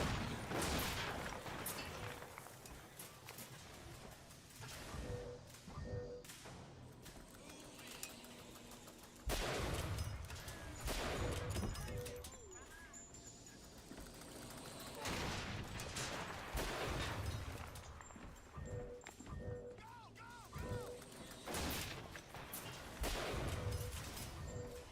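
Gunfire and rocket blasts from the Bioshock Infinite video game come in repeated sharp bursts and booms over a droning game soundtrack, with no one talking.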